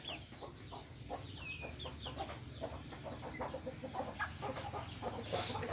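Young laying-hen chickens about a month old, hatched in a homemade incubator, clucking and peeping in a steady, busy chorus of short repeated calls at close range, with a few higher squawks and a louder burst at the end.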